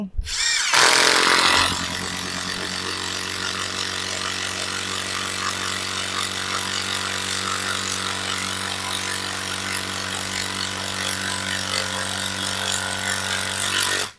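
A POLO PCB161A2 impact drill set to gear two bores into wood, opening with a loud burst that settles into a steady, close, continuous whine and hum that holds for the rest of the run before stopping.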